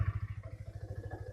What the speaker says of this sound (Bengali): সো বাইক কিন্তু স্টার্ট হয়ে গেছে।